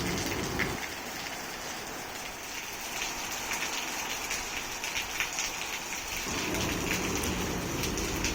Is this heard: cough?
no